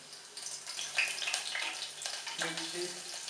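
Spices frying in hot oil for a tadka tempering while cooking Odia dalma, a lentil dish with eggplant and drumstick, giving a steady crackling sizzle at moderate level with faint broadband spatter throughout.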